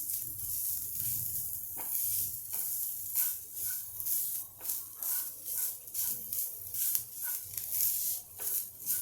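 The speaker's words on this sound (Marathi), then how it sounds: "हे खोबरं आता आपण असं भाजून घेऊयात चांगलं लालसर होतो" Grated coconut dry-roasting in a pan for a traditional Konkani sweet gives a soft, steady sizzle with repeated scraping strokes of a spatula, close and moderately quiet, with no one talking.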